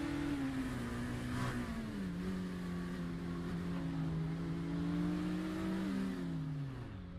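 An iRacing race car engine at Spa-Francorchamps running steadily with a rough, uneven drone, its pitch wavering and sagging as if misfiring; loud and continuous, no voices.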